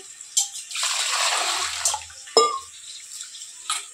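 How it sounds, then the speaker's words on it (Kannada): Rice is washed by hand in water for a vegetable pulao, with soft splashing and swishing bursts close by, a sharp clink partway through and quiet gaps between. "ಇದನ್ನು ಇವಾಗ ನಾನು ನೀರು ಹಾಕಿ ತೊಳಿತಾ ಇದ್ದೀನಿ"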